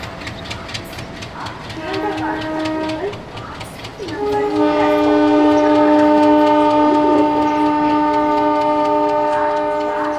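A passenger train running from Sealdah toward New Jalpaiguri: a steady, close rolling rumble with long sustained horn blasts that swell louder midway and hold to the end.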